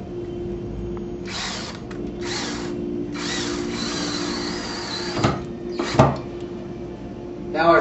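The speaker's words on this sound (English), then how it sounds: "Now that the hole is drilled, we can install our screw." A power drill drives a screw into a wooden wall stud, in several close bursts of whirring followed by two sharp clicks as the screw seats and countersinks, with a steady hum beneath.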